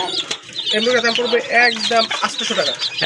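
A desi chicken at a poultry market clucks loudly and close by in a rapid series of throaty calls, with a person's voice mixed in at moments.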